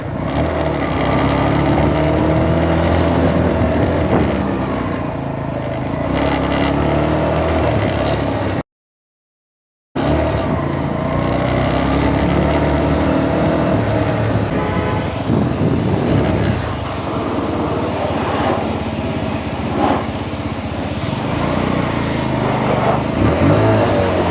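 A TK03 motorcycle being ridden hard and leaned through turns, its engine roaring loudly and steadily with revving swells throughout, broken by a brief full silence near the middle.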